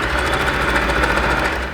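A sewing machine running a zigzag stitch on stretched bikini fabric, a loud, close, continuous mechanical whir with a fast, even rhythmic pulse.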